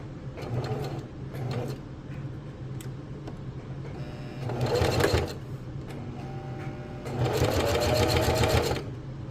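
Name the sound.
sewing machine stitching around top of a coffee sleeve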